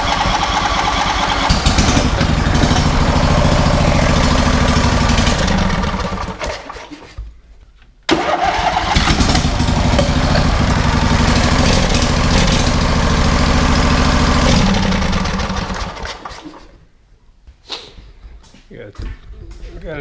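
Twenty-year-old lawn mower engine running loud and steady close by, cutting out twice into brief silence before roaring back, with a few sputters near the end.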